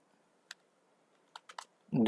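Typing on a computer keyboard while writing an SQL query: a few sparse, faint key clicks spread apart in a quiet room, ending in a louder burst of sound.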